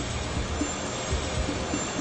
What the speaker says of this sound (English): the engine noise captured during Flight 90's takeoff